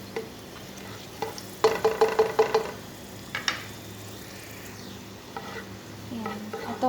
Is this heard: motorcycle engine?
no